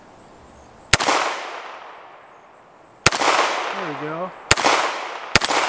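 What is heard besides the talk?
CZ Scorpion 9mm gunshots hitting a plate rack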